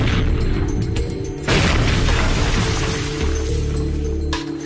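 A 1.5 kg cannonball fired with a small powder charge punches into solid oak timber: a loud, heavy boom about a third of the way in, set within continuous rumbling low noise and ringing debris.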